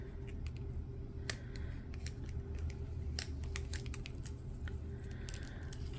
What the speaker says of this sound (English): Let's pull the plastic back.